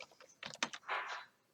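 Quick bursts of keystrokes on a computer keyboard, fairly close and moderately quiet, with a short run of clicks followed by a longer smeared rattle of keys, no voices present.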